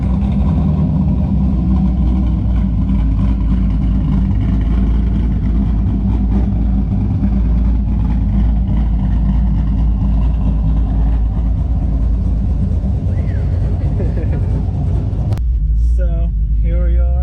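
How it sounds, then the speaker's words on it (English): A cammed C6 Corvette cruises with a steady, loud low engine rumble running throughout, cutting off sharply near the end. "So we're gonna ride around, just cruising, and let y'all ride with us."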